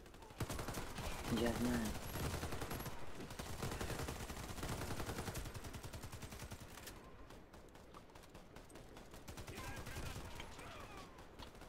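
Tavor TAR-21 rifle fire in the game Warface comes in rapid bursts of shots, fairly quiet overall, with a player talking over the shooting.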